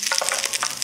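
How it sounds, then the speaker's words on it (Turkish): Hot oil is poured over a served bowl of lentil soup, giving a close, steady crackling sizzle with brief louder spits throughout. "Yağını da döküyorum."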